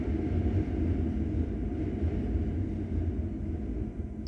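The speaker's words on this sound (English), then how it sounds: "I don't know if you can hear the train." An elevated train rolls past a building in Bushwick, Brooklyn, a steady low rumble and clatter heard from a rooftop, fairly loud and continuous for several seconds without speech.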